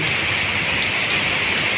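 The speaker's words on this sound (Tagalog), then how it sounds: "Lakas ng ulan, bigla lang ito" Heavy rain pours down steadily on a road with buses, jeepneys and tricycles, a dense continuous hiss of drops drumming on surfaces, loud and unbroken.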